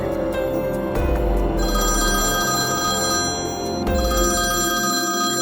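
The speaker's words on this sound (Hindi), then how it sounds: "गुल्ली बुल्ली ने अपना मोबाइल निकालकर बाबा को कॉल लगाया" A mobile phone rings steadily, a bright electronic trill repeating in bursts with a short pause in the middle, loud and close with no voices.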